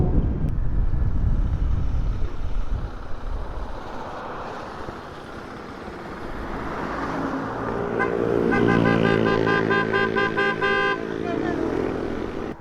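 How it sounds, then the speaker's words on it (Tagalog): A motorcycle with a loud exhaust roars on an uphill mountain road in Kalinga. The engine rumble is close and heavy throughout, with a sustained horn-like tone rising partway through. "Ang lakas ng tambutso niya eh."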